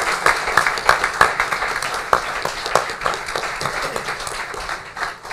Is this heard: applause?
yes